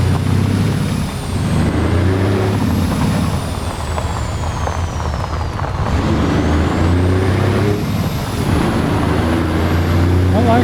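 A 600 Cummins truck engine in American Truck Simulator rumbles steadily and loudly throughout, with low droning harmonics that rise and fall as it revs, and voices talk over it at points.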